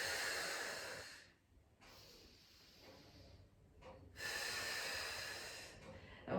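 Deep audible breaths during a beginner mat Pilates workout: a long, airy exhale, a pause, then a drawn inhale, close and soft with light room hiss.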